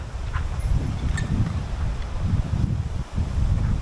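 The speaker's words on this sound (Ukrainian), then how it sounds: "бачите, який вітер?" Strong wind from a storm at a forest lake buffets and roars against the microphone in continuous gusts, with no voices.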